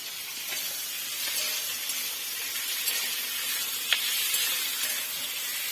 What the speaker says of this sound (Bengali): দিয়ে ভালো করে নাড়তে থাকবো যাতে আদা রসুনের গন্ধটা চলে যায়।